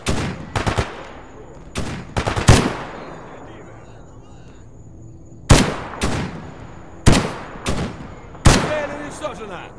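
Gunfire in the video game STALKER GAMMA: loud, sharp shots ring out in quick bursts of two or three, with pauses between volleys and echoing tails.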